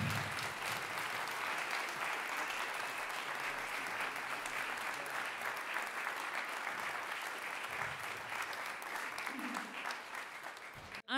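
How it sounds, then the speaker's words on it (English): A big round of applause from a panel discussion audience for the speakers, dense steady clapping from a large crowd sustained for around eleven seconds. "can I have a big round of applause for our speakers"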